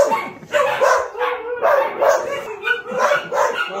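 Dogs yipping and whimpering in quick repeated bursts, close and fairly loud, sounding like several dogs together with no clear talk.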